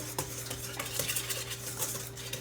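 Quick whisking of sugar with dry ingredients in a mixing bowl for vanilla scones, a close, steady scraping and clinking of a whisk against the bowl over a low hum.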